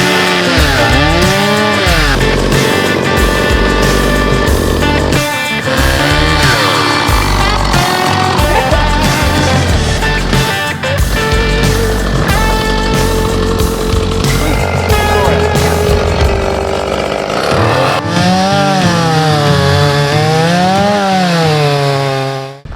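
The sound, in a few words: chainsaw cutting through fallen timber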